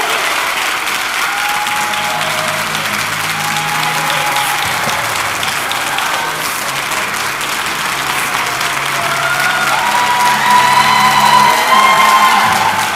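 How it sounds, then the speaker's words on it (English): An audience at a book talk applauds for two hosts, a dense and steady wash of clapping that lasts the whole stretch with a few cheers and whoops mixed in. The applause is loud and fills the room, with no speech over it. "So will you give us a big round of applause for Ted Winn and Clay Cane?"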